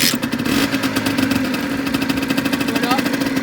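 A Yamaha DTX 50 motorcycle engine runs at a steady, buzzing idle with a fast, even pulse, close by and fairly loud, with outdoor wind noise around it.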